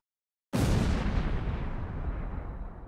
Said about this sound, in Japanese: 大丈夫っすか今爆音しましたけど